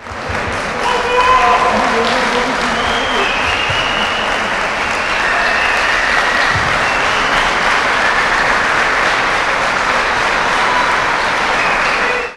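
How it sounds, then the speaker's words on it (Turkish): Party members at an AK Party congress in Elazığ fill a hall with sustained, loud applause and rhythmic chanted slogans, a dense roar of clapping holding steady throughout. "Kongredeki barışma anı partililer tarafından sloganlar ve alkışlarla desteklendi."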